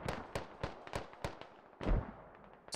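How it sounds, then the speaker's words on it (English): Mortar rounds firing and detonating in the Squad military game, a string of sharp booms with rumbling tails spaced roughly every quarter to half second, then a heavier, deeper blast near the end, somewhat distant and without voices. "Someone is shooting mortars way off the map."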